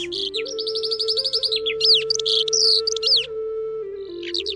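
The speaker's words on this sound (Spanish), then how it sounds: "oyeron el canto de un pájaro que no habían visto ni escuchado antes" A songbird's bright chirping trills and whistled phrases rise and fall in quick bursts over a soft, sustained low tone, used as a sound effect in a narrated legend.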